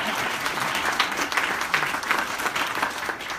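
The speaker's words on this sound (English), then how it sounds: "let's give him another one. Just applause." Applause from the audience at a Nashville Christmas parade press conference held by Piedmont Natural Gas, steady dense clapping that stays loud and even throughout, with no talk over it.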